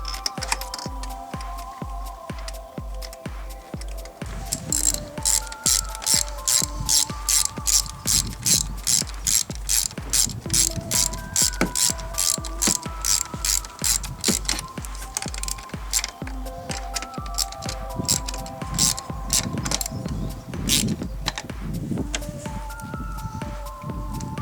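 Rapid ratchet wrench clicks while a bolt on a car's EGR valve is tightened on a 1.9 CDTi diesel engine, a steady run of close, crisp repeated clicks with brief pauses between strokes.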